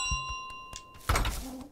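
A goose rings a small handbell in Untitled Goose Game, giving a few bright ding tones followed by a louder clanking jangle near the end, with no talk over it.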